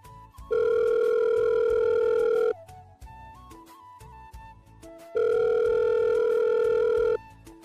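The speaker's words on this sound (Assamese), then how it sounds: "ফোনটো ৰিং কৰাৰ অলপ সময় পাছত সিফালৰ পৰা এজনী ছোৱালীৰ মাত শুনা পালে।" A telephone ringback tone purrs through the earpiece in two long, steady, loud buzzing rings separated by a pause, with faint background sounds between them.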